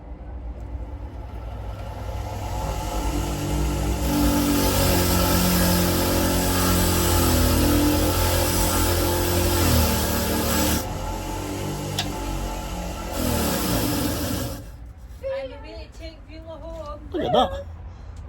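A grinder powered from a solar power bank in a workshop runs continuously for about fourteen seconds with a harsh, steady whine and shifting grinding contact, then cuts off, followed by brief talk.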